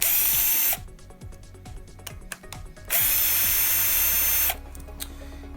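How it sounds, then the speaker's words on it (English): A cordless power driver backs a screw out of a TRX4 RC truck's rear shock mount in two loud whirring bursts, with ratcheting clicks and small handling noises in the pause between them. "So now I'm going to take this screw out"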